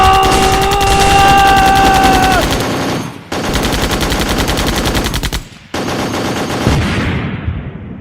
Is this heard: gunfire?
yes